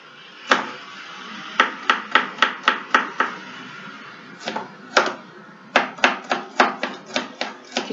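A knife chops garlic into small pieces on a board, sharp, close, rhythmic knocks in quick runs of several strikes separated by short pauses, with no talking.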